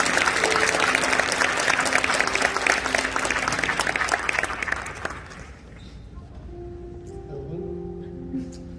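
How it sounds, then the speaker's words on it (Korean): A crowd applauds at a school graduation ceremony, loud and dense for about five seconds before fading out, leaving a quiet room with faint sustained tones. "큰 박수로 맞아주세요."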